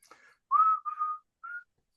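A person whistles a short tune of a few sliding notes, clear and close, with pauses between phrases and no other sound.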